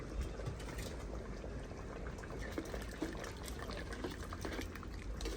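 Milk poured steadily into a simmering Jaffna-style country chicken curry in a clay pot, a continuous low bubbling and splashing that runs throughout at moderate volume with no voices.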